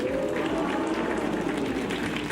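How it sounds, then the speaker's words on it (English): A recorded applause effect plays as a steady wash of crowd clapping. It is even and continuous for about two seconds, with no voice over it. "Big round of applause."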